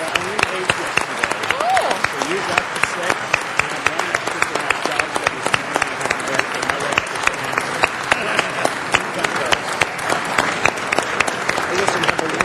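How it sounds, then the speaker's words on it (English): Sustained applause fills a city council chamber for the full stretch, dense and steady clapping from the audience at a public meeting, with occasional sharper individual claps standing out. "We got applause in the council."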